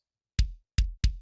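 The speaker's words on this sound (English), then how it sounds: "So without compression, it's going to sound like this." A brutal death metal drum mix of kick and snare without compression, built with free plugins: three dry, punchy hits with deep low thumps and bright attacks, close and isolated, each decaying quickly.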